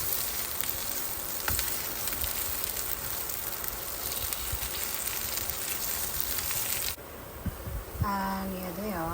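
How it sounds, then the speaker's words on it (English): Hara bhara kebabs fry in a pan of hot oil, giving a steady, close crackling sizzle throughout. Near the end the frying quiets and a voice speaks. "I've just added 2 more tablespoons of oil to help kind of sizzle this up and cook it"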